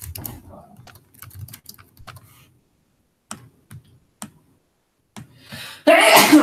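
A single sharp sneeze bursts out near the end, during an online Yu-Gi-Oh card game session, after quiet stretches of scattered speech and light clicking.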